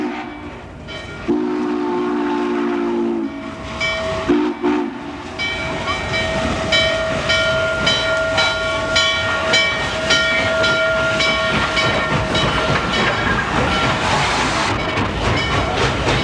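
Steam locomotive 611 rolls by up close in Bellevue, Ohio: a horn blasts at the start, then a long rhythmic clatter of wheels and hissing as the cars pass.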